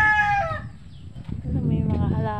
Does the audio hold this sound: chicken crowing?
yes